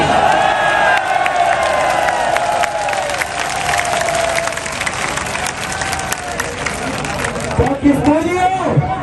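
A large outdoor political rally crowd in Kasur claps and cheers steadily, a dense wash of applause and shouting that swells near the end, with voices mixed in.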